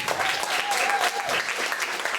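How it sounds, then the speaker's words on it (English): Guests applaud the bride during wedding speeches, a short burst of clapping from a room full of people, with a voice briefly heard over it. "Please give her a big round of applause"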